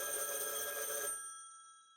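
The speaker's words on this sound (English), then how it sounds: "The phone rang." A telephone bell rings in one sustained electronic trill that cuts off after about a second, leaving a fading ringing tail in a quiet room.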